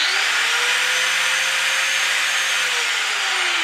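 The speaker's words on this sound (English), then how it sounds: "Now I like to use my angle grinder to grind my mustache away." A handheld angle grinder runs steadily and loudly from start to finish, a dense high-pitched whine and grinding roar with a faint tone slowly gliding beneath it and no voices over it.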